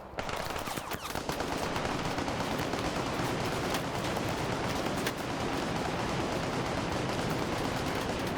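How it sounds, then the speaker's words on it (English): DShK heavy machine gun fire in a Vietnam War multiplayer shooter, a dense, continuous roar of automatic gunfire with overlapping shots from several guns running steadily throughout. "Blue 4 can also use all the OPFOR Dishkas that were left behind here to fire up there"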